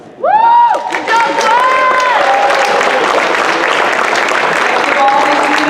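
A loud whoop opens a burst of crowd applause at a high school spring awards assembly, followed by steady, dense clapping from the audience with occasional cheering voices mixed in.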